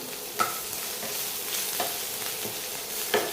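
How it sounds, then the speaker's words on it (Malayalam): Onion fries on a high flame for chilli chicken sausage, a steady moderate sizzle punctuated by a few sharp stirring clicks. "ഫ്ലെയിം നല്ല ഹൈ ഫ്ലെയിമിൽ ഇടണം. ചില്ലി ചിക്കനൊക്കെ ഉണ്ടാക്കാൻ പറ്റുന്ന പോലെ. ഓണിയൻ ഇട്ട് കൊടുക്കാം."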